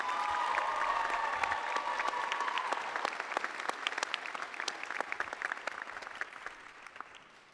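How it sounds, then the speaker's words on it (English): A graduation crowd at the University of San Francisco applauds the gardeners and custodial staff, a dense, steady wash of clapping that starts full and slowly thins into scattered individual claps toward the end. "So please, a round of applause for our gardeners and our custodial staff who've made this such a beautiful space."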